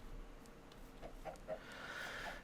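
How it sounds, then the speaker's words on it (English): A Minecraft chicken gives a few soft, short clucks at moderate distance, quiet against a faint ambient game background. "Chicken."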